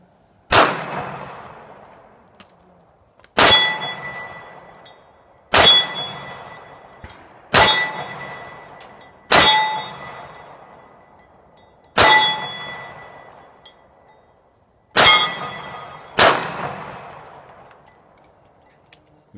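Eight sharp, loud gunshots from a Sig Sauer 1911 pistol in .45, fired outdoors with irregular gaps of roughly two seconds; each report rings out with a long fading tail, and some of the rounds strike cans set up as targets.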